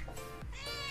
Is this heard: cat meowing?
yes